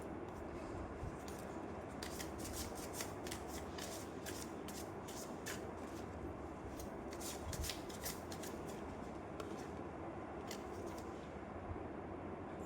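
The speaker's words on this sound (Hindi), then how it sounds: "और निकालते हैं कार्ड्स।" Tarot cards are handled and drawn in a string of soft, quick papery riffles and flicks, close but quiet, with no talk over them.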